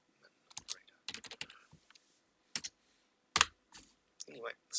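Computer keyboard typing during a live admin map-editing stream, heard as irregular bursts of close, crisp key clicks separated by short pauses.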